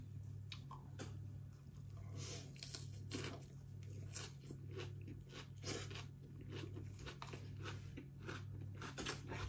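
Someone eats vegetables seasoned with salt, biting and chewing up close in a steady run of crisp, wet crunches over a low background hum, with no talking.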